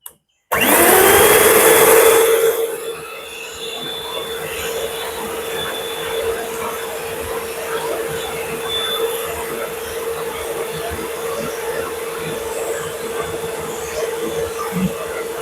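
An electric mixer beating butter cake batter with vanilla starts with a loud high whir, then settles into a steady, slightly quieter motor drone that runs continuously without pause.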